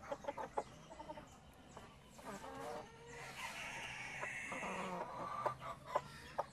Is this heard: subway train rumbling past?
no